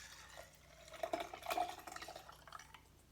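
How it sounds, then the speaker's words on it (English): Homemade hand sanitizer of alcohol and aloe is poured into a sterilized glass jar, a soft liquid splash and trickle that swells briefly in the middle, close and quiet. "I'm going to go ahead and pour the whole thing into here."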